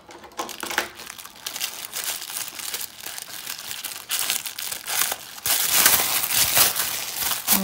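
Recycled tissue paper is unfolded and crinkled up close for a paper craft piñata, with continuous rustling, crumpling and occasional tearing-like crackles that grow louder and denser toward the end.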